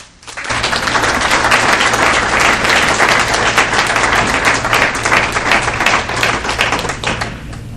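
Sustained, dense applause from an indoor audience welcoming Bob Fitrakis to a talk in Madison, loud and even for several seconds before tapering slightly at the end.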